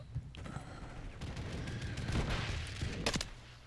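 OG Minibak gun fired from the hip in a high-recoil setup during a video game, a continuous loud burst of rapid gunfire under dense game noise with a sharper crack near the end.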